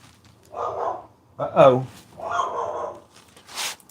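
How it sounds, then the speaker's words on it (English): A dog barks a few times in short bursts, fairly close, with whiny, yelping tones between the barks. "Let me go see what she's barking at."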